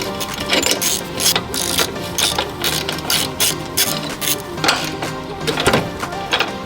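A ratchet wrench clicks repeatedly while loosening the bolts on a BMW F81 M3 oil cooler, rapid bursts of close, sharp pawl clicks in uneven strokes with brief pauses between them.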